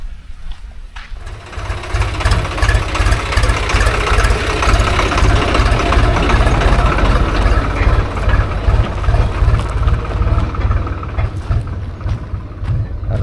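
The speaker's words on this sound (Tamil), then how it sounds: "வழியில் ஒரு வண்டி வேறு பயங்கரமாக போய்கிட்டு இருக்குது" A vehicle engine on a road through rural mixed-farming country gives a loud, steady rumbling drone that holds for the whole stretch, with no voices.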